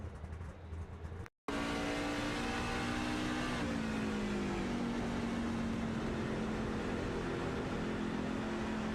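A race truck engine in the iRacing video game, a damaged truck after contact, roars steadily after a brief cut, its pitch sliding down slightly, loud and continuous.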